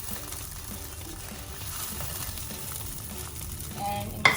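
Prawns frying in a pan give a steady, moderate sizzle throughout, ending with a sharp clink near the close.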